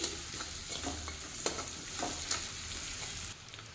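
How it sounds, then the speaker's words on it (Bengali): Onion fries with ginger-garlic paste in a pan over a low flame, a constant close sizzle broken by a few soft spatula scrapes as it is stirred. "আদা রসুনের পেস্ট দিয়েও ভালো করে ভাজতে থাকবো।"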